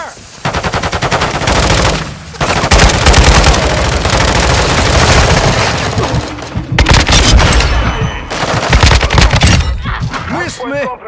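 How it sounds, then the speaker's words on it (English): Loud, sustained automatic gunfire and bursts of shots in a Call of Duty video game battle, with explosive booms and shattering debris; game voices call out amid the chaotic firefight. "Taking heavy fire!"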